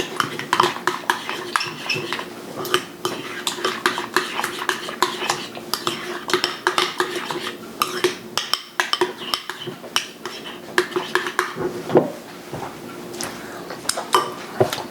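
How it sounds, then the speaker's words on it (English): A spoon stirs lemon juice into a mayo-based shrimp Louie dressing, giving a fast run of clinks and scrapes against the bowl, close and busy throughout. "You can stir it up."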